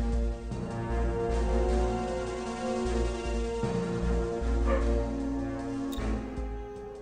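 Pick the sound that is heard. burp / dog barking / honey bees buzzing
dog barking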